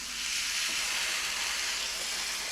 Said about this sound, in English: You want that butter to sort of sizzle as it goes on